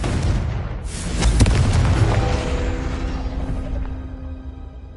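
A Confringo explosive spell goes off in a Harry Potter video game, producing a loud, sustained booming blast with a rumbling body that slowly decays, heard on its own without talk.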